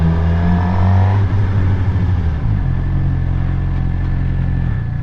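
A Suzuki GSX-R 600 motorcycle engine revs up through the gears, the loud close tone climbing, dropping at a shift, then settling into a steady rumble.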